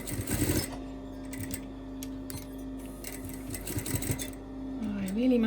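A home sewing machine stitching round a garment lining, a steady close mechanical hum with fine rapid ticking that runs through the clip, with a few louder clicks and handling noises and a voice speaking briefly.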